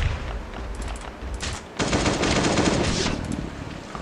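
AK-47 fire in the survival video game Last Day on Earth rattles off in loud, rapid automatic bursts that grow denser midway and continue steadily to the end.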